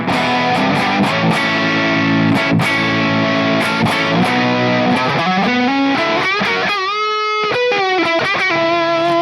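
An electric guitar through a Tube Screamer overdrive pedal plays sustained chords and picked notes with gritty distortion, loud and close.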